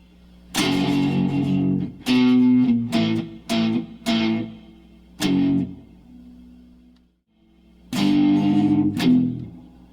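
A heavily distorted electric guitar plays a choppy riff, short, punchy chords separated by brief gaps.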